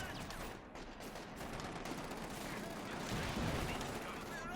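Automatic weapons fire at a tank in Company of Heroes 2, a dense, steady rattle of gunfire with distant booms running the whole time beneath a commentator's voice.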